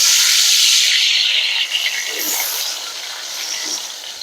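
Potatoes hit hot mustard oil with a loud, close sizzle that starts strong and settles into a steady, slightly softer frying hiss.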